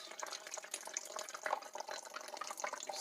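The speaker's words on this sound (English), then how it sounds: "I'm going to just pour it right into this" Epsom salt water poured from one container into a plastic soda bottle, a steady splashing, trickling stream that runs close and fairly quiet for the whole stretch.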